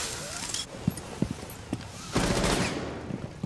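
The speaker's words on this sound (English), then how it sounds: "Oh, they're shooting at me again." Sporadic gunfire in Rainbow Six Siege on the Favela map, short sharp shots scattered through the clip with a denser burst of noise midway, moderately loud.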